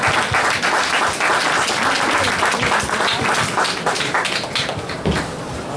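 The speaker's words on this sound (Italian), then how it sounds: "Un applauso." Sustained audience applause at a white truffle fair awards ceremony in San Miniato, dense steady clapping filling the whole stretch, loud and close with no voices over it.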